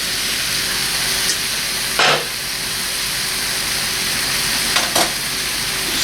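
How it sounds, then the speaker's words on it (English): Beef for stew sizzles loudly and continuously in a hot pan, with two sharper scraping bursts as it is stirred, and no talking. "at this point, we return our beef back to the pan"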